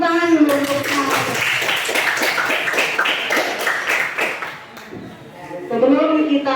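A school class claps together in a physics lesson, a run of brisk rhythmic claps in the middle while a voice speaks before and after.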